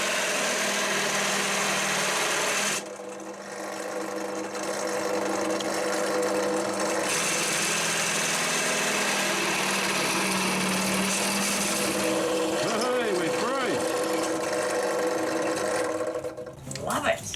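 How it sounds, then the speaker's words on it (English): A drill bit boring a hole in a man-cave workshop, its steady motor whine running loud and continuous, dipping briefly near the start and rising in pitch toward the end. "So obviously drilling a hole and then we've got to cut through it."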